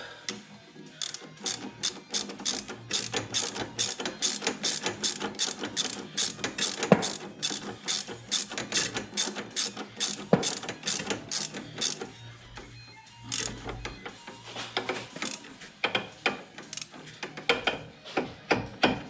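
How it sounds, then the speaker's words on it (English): A hand ratchet tightens bolts on a John Deere 1025R tractor, giving a long run of quick, evenly spaced clicks up close, with a few brief pauses between strokes. "Ratchet on here."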